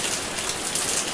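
Steady rain falls across the whole stretch, a dense, even hiss of drops on surfaces with no pauses and no voices.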